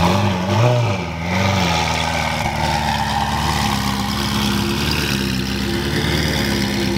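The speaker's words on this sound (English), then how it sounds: "Fully straight pipe just got the cold start." A straight-piped turbocharged car engine rumbles loud and close right after a cold start, revving briefly and then settling into a steady, throaty idle, with no talking.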